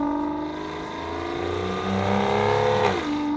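A 2007 Aston Martin DB9 V12 revs steadily and loud, its pitch climbing before dropping sharply near the end, with a rich, multi-toned growl.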